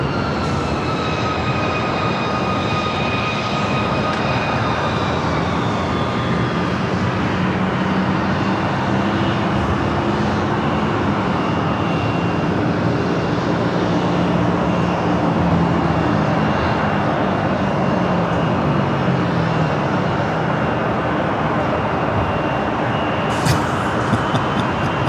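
Airliner rolling off the runway at San Diego airport, a loud continuous jet engine roar with steady whining tones that hold close and unbroken throughout.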